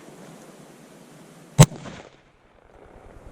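A single sharp shot from a Charles Daly 12 gauge shotgun fitted with a 22LR chamber reducer, one loud close crack with a short rumbling tail that fades into quiet outdoor ambience.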